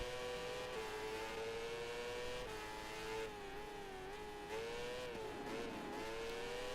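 Moto2 racing motorcycle engine in a video game, a steady high-pitched whine held at high revs throughout, with slight dips and rises in pitch as the bike shifts and leans through corners.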